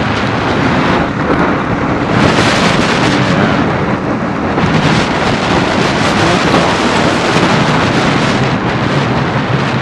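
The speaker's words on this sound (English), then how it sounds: "It's raining now." Steady, loud roar of rain mixed with rushing wind buffeting the microphone while riding a Honda CB250RS motorcycle, continuous throughout with no speech.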